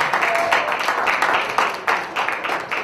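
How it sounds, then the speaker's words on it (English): Audience applause at a youth gathering, a short burst of clapping with uneven, pulsing swells, moderately loud and close. "Please give him a round of applause again."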